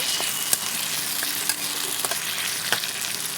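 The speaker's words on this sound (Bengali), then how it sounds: "আলু আর মাছের তেলটা ভালো করে এবার ভেজে নেব।" Potato pieces fry in fish oil in a pan, giving a loud, continuous sizzle with a few sharp spits and pops scattered through, and no talking.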